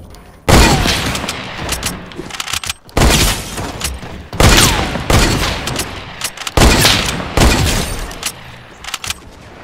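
Loud gunfire in a shooter video game, four heavy bursts of shots each ringing out for about two seconds before the next begins.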